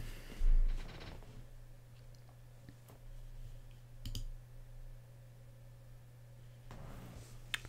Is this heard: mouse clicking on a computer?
yes